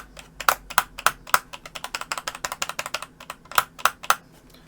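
The original key switches on a Victrix Leverless KO fightstick are pressed in a rapid run of sharp, clacky taps, close and uneven, with several louder hits standing out.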